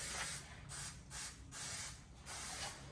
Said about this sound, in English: might run out of adhesive spray